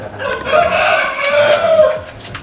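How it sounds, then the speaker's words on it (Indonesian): A rooster crows once in a drawn-out, wavering call, loud and close, with faint ambient noise around it. "Nah, kita mau lihat ayam nggak, Ki?"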